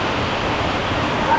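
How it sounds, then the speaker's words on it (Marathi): The first monsoon rain of the season falls in Ratnagiri on the Konkan coast, a steady even hiss of downpour without a break, close and fairly loud. "पहिला पाऊस, रत्नागिरीतला पहिला पाऊस सुरुवात झालेली आहे."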